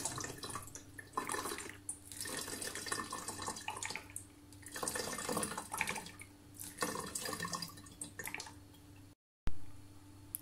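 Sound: pouring alcohol for homemade glass cleaner

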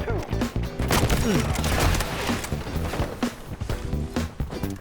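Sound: M870 shotgun shots in video game Delta Force

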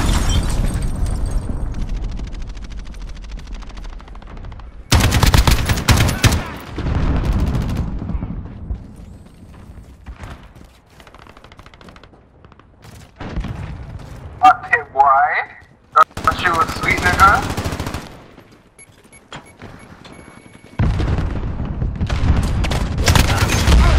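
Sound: cruise missile strike and gunfire in Modern Warfare video game

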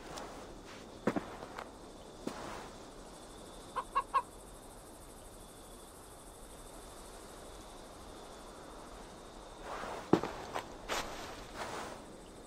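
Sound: chicken clucking in video game Assassin's Creed Valhalla

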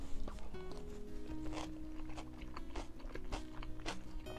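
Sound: chewing gray mullet sashimi bibimbap with crunchy onion

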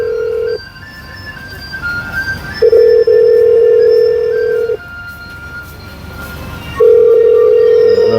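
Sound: IP telephone call ringing

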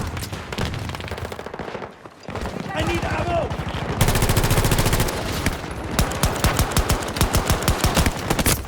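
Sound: rapid gunfire from an unknown gun in video game Battlefield 2042

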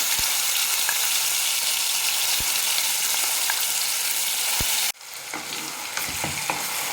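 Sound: frying ground spice paste in hot oil

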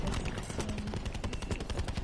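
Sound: light machine gun fire in the video game Black Ops 4

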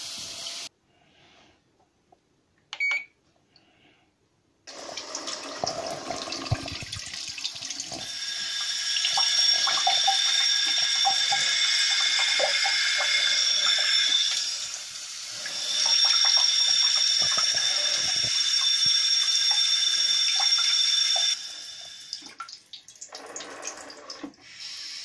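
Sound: bidet nozzle spraying water

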